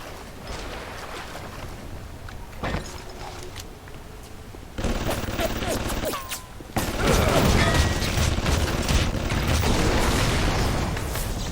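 Loud, continuous machine-gun fire and mechanical clatter in BioShock, a shooter set in an underwater city, grow heavier partway through and keep going as a dense barrage with booms beneath.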